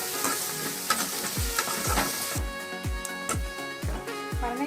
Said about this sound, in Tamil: கொஞ்சம் பொன்னிறமாக வதக்கங்க.